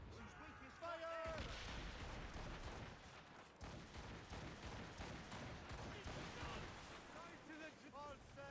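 Ship cannons firing in a naval battle in Assassin's Creed Rogue, a dense run of booming volleys mixed with shouting crew voices, crashing impacts and continuous battle noise throughout.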